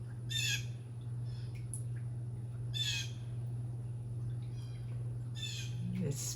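Crows call in harsh bursts at about half a second, three seconds and five and a half seconds, each a short run of raspy squawks, set against a steady low hum and faint background noise.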